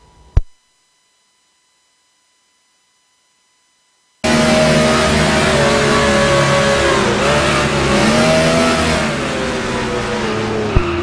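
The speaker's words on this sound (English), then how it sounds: "And now we're going to ride inside Mario Chambers, number 5, Farmers Insurance Silverado" Onboard engine of the number 5 Silverado race truck, a loud revving engine roaring and shifting pitch continuously for the second half after several seconds of near silence, with no talking.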